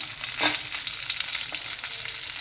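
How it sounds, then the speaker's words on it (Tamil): Onions, a mix of shallots and large onions, sauté in a pan for hotel-style kara chutney, a steady close sizzle broken by scraping stirs, no voices. "வெங்காயம் நல்லா வதங்கின உடனே"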